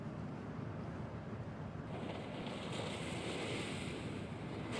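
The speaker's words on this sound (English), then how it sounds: "Can you hear the water?" Waves wash against the shore in a steady, soft surf that swells slightly louder partway through, with some wind noise on the microphone and no talking.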